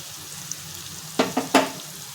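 Turmeric, masala, coriander-cumin powder and goda masala sautéed in a pan: a low steady sizzle, then three quick scraping stirs near the end, close by.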